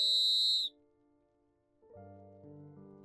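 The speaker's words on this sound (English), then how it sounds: "Let me actually blow my whistle." A whistle blown in the video game Deepwoken gives one shrill, loud, steady tone that stops abruptly, followed by faint low game music.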